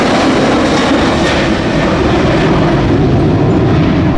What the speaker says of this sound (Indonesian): Kita menemukan lagi pesawat terbang.